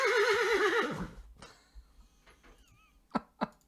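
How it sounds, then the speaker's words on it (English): A horse neigh sound effect plays as a loud, wavering whinny lasting about a second, then fades into a few soft snorts and short breathy puffs. "I played a horse sound effect"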